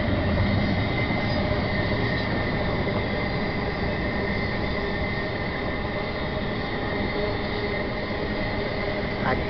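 A train passes close by, a steady loud rumble of wagons and wheels with faint squeals that runs unbroken from start to end.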